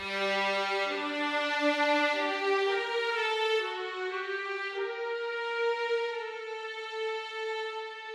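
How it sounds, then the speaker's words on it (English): A sampled orchestral string section, first and second violins among them, plays sustained, harmonically rich chords that shift slowly, smooth and legato, with no talking. "So you have first violins, second violins,"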